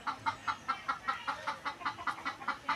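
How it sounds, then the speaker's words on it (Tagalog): A hen clucks after laying an egg in a yard garden, giving a quick, evenly spaced run of clucks that is fairly quiet and heard alone. "may nangitlog na manok"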